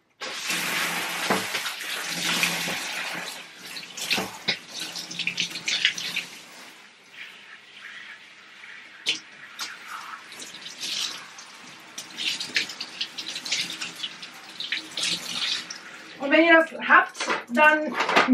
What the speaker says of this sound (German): jetzt geht's ans Ausspülen